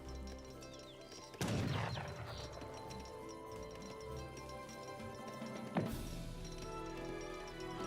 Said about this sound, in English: We're going to see a pretty good heavy cannon barrages.